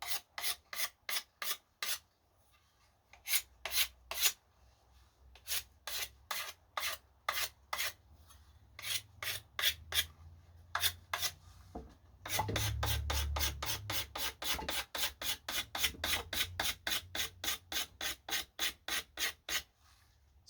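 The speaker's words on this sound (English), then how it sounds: "I'm probably going to sand the end grain here, because that is something that's kind of easier to do with sandpaper." Sandpaper sanding the end grain of a wooden tool handle, close rasping strokes in rhythmic bursts with short pauses, speeding into quick continuous strokes in the second half, no talk.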